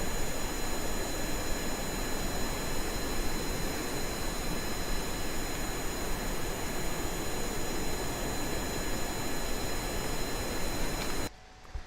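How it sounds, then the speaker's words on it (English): A loud, constant jet-like engine roar from a Kerbal Space Program aircraft on the runway holds steady with a high whine and cuts off abruptly near the end. "Am I being deafened by that engine noise, by the way?"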